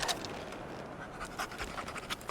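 A dog in the video game Remnant 2 pants steadily and close, with quick rhythmic breaths over a hissing background and no talk.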